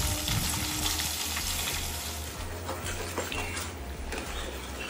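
Gravy for doi katla bubbles and fries in a pan, a loud continuous sizzle close to the microphone with faint stirring and no speech.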